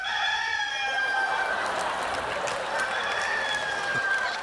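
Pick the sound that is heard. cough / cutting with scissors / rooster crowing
rooster crowing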